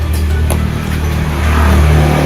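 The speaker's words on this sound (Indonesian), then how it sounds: "Hidupkan motor terlebih dahulu" An automatic fuel-injected scooter-style motorcycle engine idles close by in a steady, even hum, rising slightly in loudness toward the end, with no talking.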